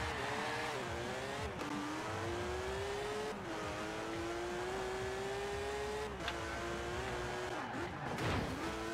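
Car racing in Forza Horizon 4, engine tone climbing and dropping through gear shifts with brief breaks between them, close and loud, with tire noise toward the end.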